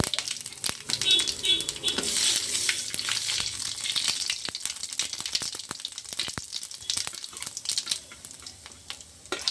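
Cumin seeds frying in hot oil, a loud, crackling close sizzle with dense popping that eases slightly over time.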